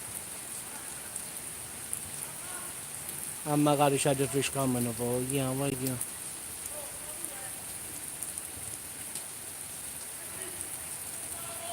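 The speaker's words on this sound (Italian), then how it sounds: "piove abbastanza, quindi è arrivata la tanto agonata pioggia" Steady rain hisses in the background throughout, with a person speaking briefly over it partway through.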